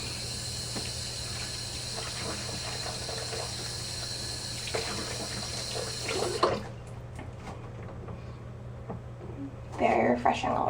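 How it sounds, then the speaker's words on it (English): Water runs steadily from a tap into a bathroom sink while a face is washed, the flow cutting off partway through, followed by soft splashing and a person talking. "So now I'm going to use it to wash my face."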